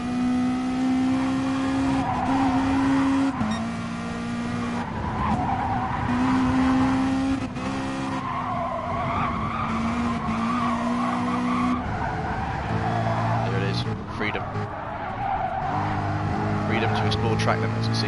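Porsche race cars lap at the Le Mans 24 Hours with a continuous roar of engines and shifting, tire-squealing tones, heard loud and near under excited race commentary.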